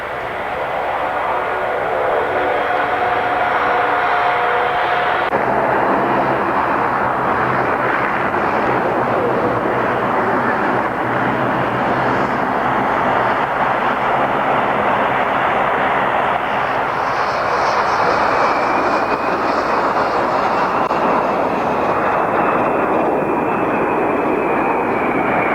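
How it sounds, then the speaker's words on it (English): Ilyushin IL-96 300-seat passenger jet with high-bypass engines flying at the 1989 Paris Air Show, a loud continuous roaring jet drone that swells and shifts in pitch as it passes overhead, sustained for the whole stretch with no talk. "The Soviet Aviation IL-96 is a 300-seat passenger liner"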